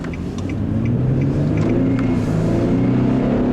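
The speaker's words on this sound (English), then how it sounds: "The V6 still makes very pleasant sounds" A 2013 Infiniti G37x all-wheel-drive sedan's V6 engine runs with a steady, loud low rumble and a slight rise in pitch, heard close and alone without talk.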